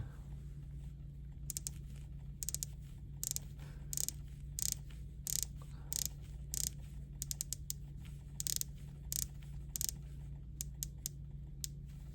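A rotating ceramic bezel on a dive watch clicks in short ratcheting bursts, quiet and close, spread irregularly over a steady low hum.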